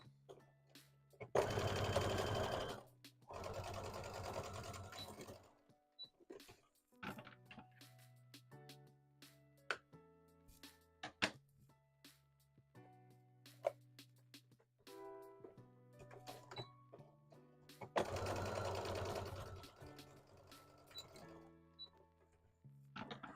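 A domestic sewing machine stitches fabric for a hat in two loud bursts of rapid whirring needle chatter, near and close, separated by quiet gaps filled with small clicks and taps of handling.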